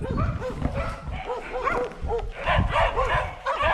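Several dogs barking and yipping close by on a forest trail in the Apuseni mountains, a rapid run of overlapping barks with whimpers over rustling footsteps.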